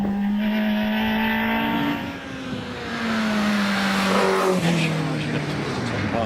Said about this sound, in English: Ralph Pinder on the hill in the Peugeot 205 GTI.